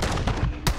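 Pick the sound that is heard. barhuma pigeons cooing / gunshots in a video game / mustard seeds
gunshots in a video game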